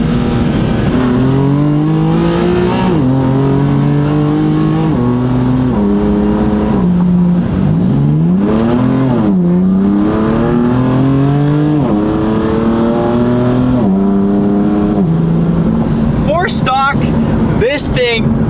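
A lowered BMW M4 accelerates hard, the engine note climbing and dropping through several gear changes, loud and close throughout, with a brief voice near the end.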